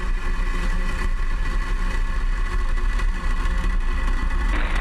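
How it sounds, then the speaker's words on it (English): Falcon rocket engines at a Starlink launch liftoff, a steady, dense roar filling the whole span, loud and unbroken with a rough low rumble. "Ignition. Engines full power. And liftoff of Starlink."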